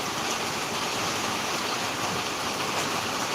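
Steady monsoon rain pours down in Akluj, a dense, even hiss of falling water with no break and no voices.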